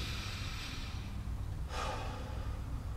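A person draws one slow, audible breath during a breathing exercise, close by, with a soft rush of air partway through over a steady low background hum.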